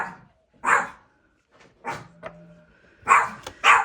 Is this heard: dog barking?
yes